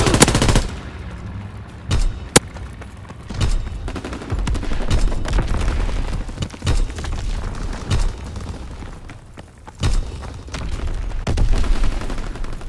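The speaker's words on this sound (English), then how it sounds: "Fighter pilot inbound. Strafing the target." Sustained machine-gun fire and booming impacts from a fighter plane's strafing run in Call of Duty: WWII, loud and dense across the whole stretch with repeated sharp bursts and rumbling explosions.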